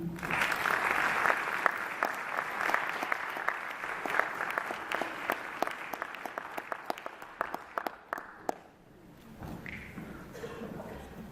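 An audience at an awards ceremony for distinguished African American scholars breaks into sustained applause, dense clapping that thins out toward the end, heard from within the hall.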